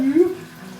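Simple syrup pours into a mixed drink with a steady, gurgling liquid stream, louder at first and then settling into a softer trickle for under a second.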